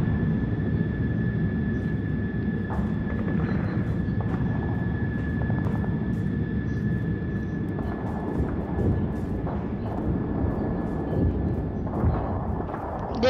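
Steady broadband engine roar from a military airplane landing in the Air Wars 2 video game, loud and continuous throughout with a constant tonal whine above the rumble.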